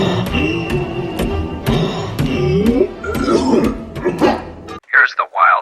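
General Grievous, the droid general in Star Wars: Revenge of the Sith, gives a few short, raspy hacking coughs right after a stretch of loud film dialogue and sound.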